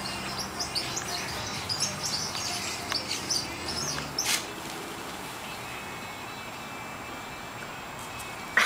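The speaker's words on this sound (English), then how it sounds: "Eric, show you how many birds we got out here." Many birds chirp and call in the distance, a busy flock chattering over steady wind-like background noise, fading to a calmer hiss.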